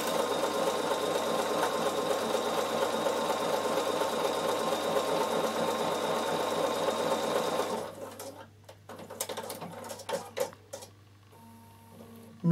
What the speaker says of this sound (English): So they just say to zigzag it, but I think satin stitching is so much prettier.